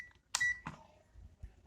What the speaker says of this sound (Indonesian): Saya pindah ke mode buzzer ya.